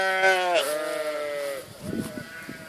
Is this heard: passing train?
no